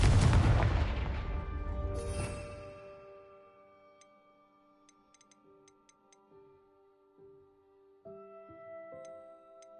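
A heavy explosive spell blast in Hogwarts Legacy, a loud roaring burst that decays over a couple of seconds, followed by quiet ticking and musical game tones.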